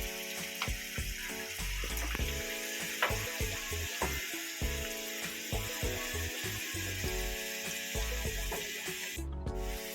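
Onions frying in oil in a pot until translucent, for a keto ndolé with bitter leaves, giving a continuous close sizzle with scattered crackles and a few scraping stirs, no talking.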